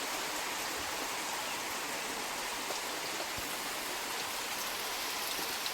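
Rain falls steadily from early morning, a constant, even hiss of drops with no breaks or voices, moderately quiet throughout.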